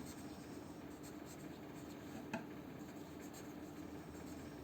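Pen scratching on paper while solving a class 7 maths fraction exercise, faint soft strokes close by over a quiet steady background hiss, with one small tap midway.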